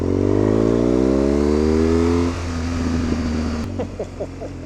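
A motorcycle engine revs loud and close with rising harmonic tones, then the throttle drops off into a run of sharp exhaust pops and crackles on the overrun.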